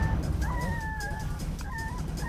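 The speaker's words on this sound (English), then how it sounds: "Yeah, it's a coyote." A coyote vocalizes out in a pasture during a rabbit hunt, giving two long, wavering whine-like yips or howls over a rumbling outdoor background.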